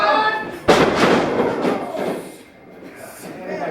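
Wrestler slammed to the mat by a suplex in a wrestling ring, one sharp heavy thud followed by a rumbling ring-canvas reverberation amid crowd noise and commentary.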